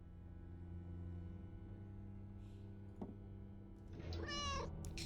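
A cat meows once, close and clear, in a Steam Scream IV horror game demo, rising then falling over a low steady ambient drone, with a soft thump shortly before.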